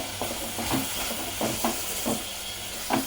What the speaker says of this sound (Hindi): ये मैंने इसको अच्छे से 1 मिनट भून ली